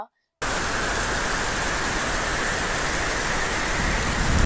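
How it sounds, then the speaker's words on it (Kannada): Steady heavy monsoon rain in Somvarpet, Coorg, hissing continuously after a brief silent start, a dense even wash of sound with no other clear events. "ಮಳೆ ಮಳೆ ಮಳೆ ಮಳೆ ಮಾತ್ರ ನಿಲ್ತಾನೆ ಇಲ್ಲ"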